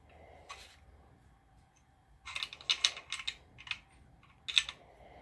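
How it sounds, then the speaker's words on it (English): The bolt carrier of an M1 Garand rifle is handled at close range, giving a quiet hum followed by a cluster of sharp metallic clicks and clacks, then one final bright clack. "There's the bolt carrier."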